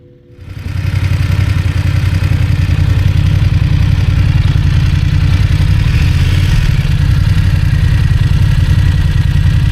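A Chevrolet Camaro engine starts up and settles into a steady, loud, close idle with a deep low rumble that holds evenly throughout.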